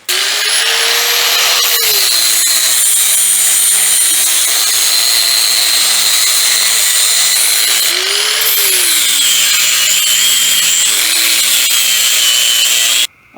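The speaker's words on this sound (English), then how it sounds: "let's see what I can do with the grinder" A grinder works a car part on a 1940 coupe, a loud steady whine running almost nonstop with pitch dips as the tool bites and eases, then cutting off at the end.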